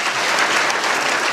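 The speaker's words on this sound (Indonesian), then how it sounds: "Berikan tepuk tangan bagi dia." A church congregation claps together during a revival service, dense sustained applause filling the whole moment at steady loudness with no voices over it.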